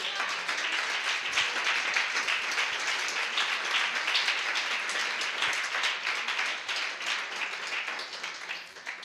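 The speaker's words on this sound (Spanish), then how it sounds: "Denle un fuerte aplauso al Señor" Loud, sustained applause from a church congregation during a sermon, dense clapping filling the whole stretch without pause and tapering slightly at the end.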